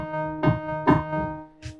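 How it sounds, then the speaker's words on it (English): Signal's Key Blend keys instrument, layered in a hip hop beat, plays a short phrase of soft, pulsing keyboard chords with rhythmic swells over a sustained tonal bed, ending on a brief breathy accent, with no talk. "I've layered in another kind of Signal instrument called Key Blend"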